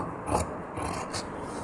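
Scissors cut blouse fabric to shape a deep front neckline, a soft rasping snip heard up close, with a couple of brief cutting strokes across a short, quiet stretch.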